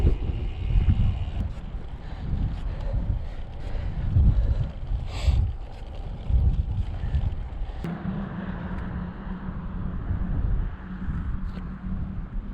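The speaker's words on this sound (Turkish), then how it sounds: "Fena rüzgar var." Strong wind buffets the microphone during a road-bike ride on village roads between Gebze and Yalova, Turkey, in a constant, loud low rumble with gusty swells throughout, and a faint steady hum joins in partway through.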